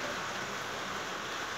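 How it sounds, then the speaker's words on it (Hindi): Light rain falling outside, a steady, even hiss of drizzle with no distinct drops or other sounds. "बाहर बारिश है, हल्की हल्की हो रही है।"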